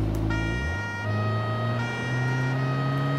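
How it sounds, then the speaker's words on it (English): A standard French police siren on a Cherrier FCV in the BeamNG.drive video game, a clear two-tone wail alternating pitch in steady cycles over a low engine hum, heard alone. "Standard French siren"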